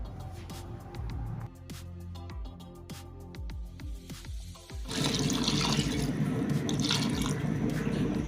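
Water is poured into a pot of seasoned meat for ogbono soup, a splashing, gurgling pour that swells loudly after a few seconds of clinks and drips and then continues steadily.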